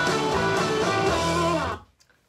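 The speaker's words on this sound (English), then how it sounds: "And finally, I added in some lead sounds into the track." A dense, full music track with layered synth lead sounds over a busy mix of bass and chords, loud and steady for nearly two seconds before cutting off abruptly into near silence.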